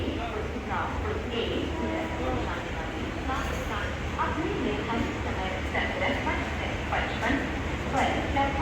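Rattling, rumbling ride aboard a moving Valsad-bound passenger train in the evening, a steady dense roar of wheels and carriage noise filling the whole stretch, with people chatting underneath.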